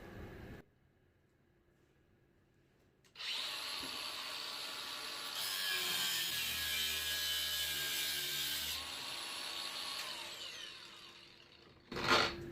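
A power cutting tool saws through a section of a Honda CM450E motorcycle swingarm outdoors, starting after a quiet stretch with a sustained loud, high grinding whine for about eight seconds before winding down, followed by a brief clunk.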